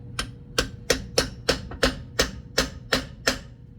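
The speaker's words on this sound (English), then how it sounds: "I'm going to give it a couple little taps with the hammer" About ten evenly spaced, crisp metallic taps from a hammer seating an offroad ball joint delete shaft into a steering knuckle, close up and steady in rhythm with no talk.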